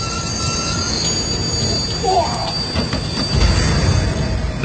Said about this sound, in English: He reaches for the emergency brake.